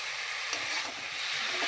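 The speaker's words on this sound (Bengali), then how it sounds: "তো ফুলকপিগুলো ঢেলে দিয়ে এবারে ঢেলে দিয়ে আবার কষা যায়।" Cauliflower sizzles and hisses as it is stirred in a hot pan, a steady close frying noise with faint scraping.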